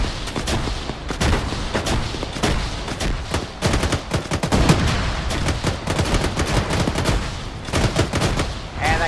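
Heavy 40mm grenade launcher fire pounding a vehicle in the Arma 3 video game, with a dense, continuous run of gunfire, thuds and bursts throughout, fairly loud and close.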